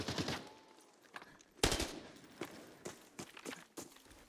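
An AK rifle fires in a video game, fairly faint sharp cracks in quick irregular bursts mixed with footsteps and thuds, no talking over it.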